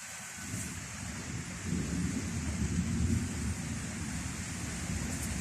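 Thunder rumbles low and continuous beneath steady rain, building in the middle and then easing into a long, distant roll.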